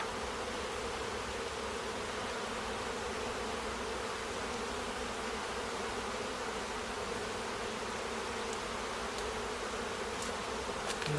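Bees buzzing above an open beehive during a spring inspection, a dense and steady drone that holds for the whole stretch at a moderate level, with no talking.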